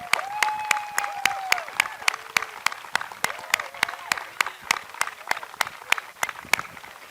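Sparse, rhythmic clapping with sharp, evenly spaced claps honours the faculty at a college commencement ceremony, with faint voices heard in the background.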